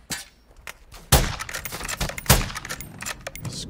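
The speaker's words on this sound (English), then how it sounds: "I'm getting shot in the back, but I feel fine." Gunfire from Call of Duty Warzone, with two sharp, loud shots standing out above a busy stream of quieter pops and clatter, all without talk.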